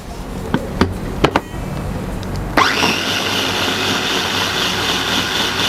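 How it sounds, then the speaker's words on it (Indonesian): A blender purees fish and carrot with mineral water. It switches on abruptly partway through as a loud, steady motor whine that fills the rest, after a few sharp clicks and knocks. "Kita blender halus dulu ya."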